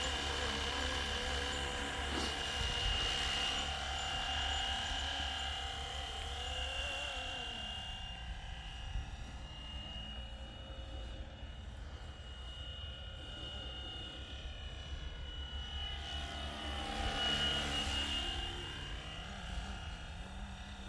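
A Flywing radio-controlled model helicopter spools up for a slow takeoff and then hovers, giving a steady, loud whine of motor and rotor that holds throughout with small shifts in pitch.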